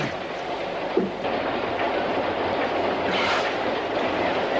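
A train runs steadily on its rails with continuous broadband rumble and rattle of the railroad cars, with one brief knock near the start and no talk.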